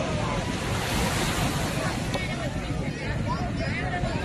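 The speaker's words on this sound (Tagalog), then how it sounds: "Ay, ang lakas ng alon." Loud, continuous surf roars close by at Al Mamzar Beach in Dubai, with heavy wind buffeting the microphone and faint voices mixed in.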